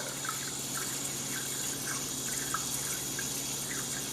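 Water trickles and drips steadily from a swamp cooler pump against a constant low mechanical hum, with small splashy droplets landing at irregular intervals.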